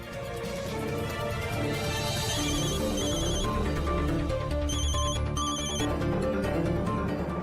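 A phone ringtone plays continuously, a repeating electronic melody over a steady, fairly loud background, with no talking.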